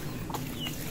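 Hen clucking nearby, a couple of short clucks in quick succession, faint against outdoor background noise.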